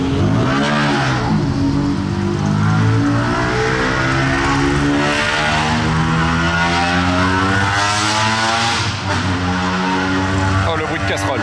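A rally car during the Monte-Carlo Rally 2025 passing through town near a tunnel entrance, its engine loud and close, droning and rising in pitch with rough harmonics, and a voice briefly heard over it.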